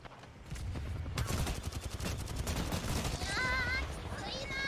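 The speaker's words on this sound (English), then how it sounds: "But she's shooting. Never mind. She's shooting." Rapid gunfire in the Apex Legends video game rattles steadily in the background under a person talking, with a few higher electronic tones from the game near the end.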